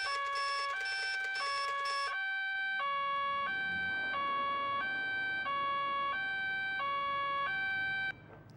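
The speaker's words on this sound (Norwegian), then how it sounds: "Utenfor politistasjonen bråvåkna han Pelle av sin egen sirene" A two-tone police car siren in a children's cartoon wails close and loud, alternating high and low notes in a steady rhythm of about a dozen cycles before cutting off abruptly near the end.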